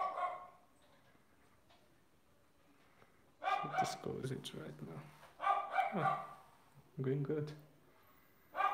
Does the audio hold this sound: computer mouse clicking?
no